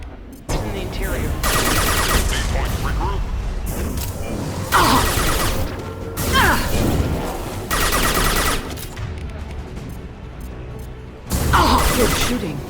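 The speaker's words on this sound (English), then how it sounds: "Good shooting." Repeated bursts of gunfire in Mass Effect Legendary Edition, loud volleys arriving in several separated bursts with short lulls between them, while combat voices talk intermittently across the fight.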